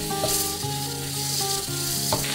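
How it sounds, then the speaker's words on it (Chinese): Green and red chili peppers and bamboo shoots stir-fried over high heat in a wok, a dense continuous sizzle with a few faint knocks of the spatula and a steady tonal hum underneath. "放上青红辣椒，开大火翻炒，辣椒炒断身，再加入竹笋翻炒"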